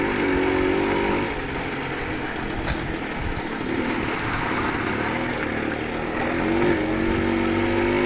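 Peugeot XP automatic Super Avenger 50 moped ridden at full throttle, a steady buzzing two-stroke drone with a rising and falling engine tone, loud and close throughout.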